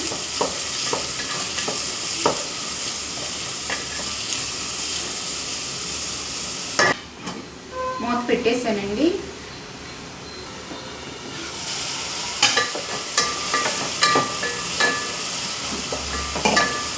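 Ingredients for a fish curry with gulivinjalu fish being mixed in a hot pan, a steady sizzle with scraping stirring strokes, a brief pause midway with clanks, then more stirring; no talking.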